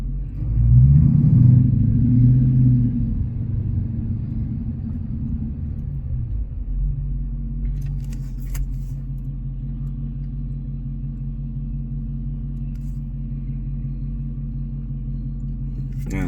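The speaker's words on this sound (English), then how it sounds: "Just having a little issue here with traffic." Road traffic rolls past, with a heavy, loud rumble of a passing vehicle swelling near the start and then fading to a steady low drone of traffic.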